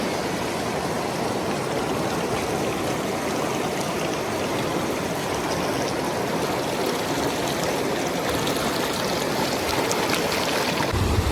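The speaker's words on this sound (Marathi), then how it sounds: "इथे इतकं निळमर पाणी इतक्या संत गतीने वाहते" A glacial meltwater stream in the Nubra Valley flows toward the Shyok river with a steady, close, unbroken rush and gurgle throughout.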